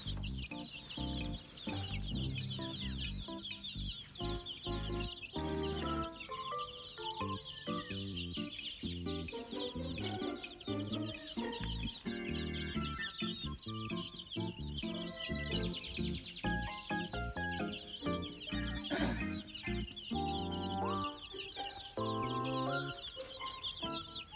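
Chickens cluck in a pen beside a mobile chicken coop, a dense, continuous chorus of overlapping calls at close range with no talking.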